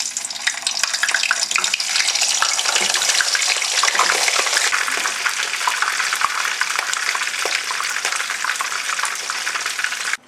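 Frozen spring rolls fry in plenty of hot oil in a wok, giving a loud, dense, crackling sizzle that stays steady and close for about ten seconds before stopping abruptly.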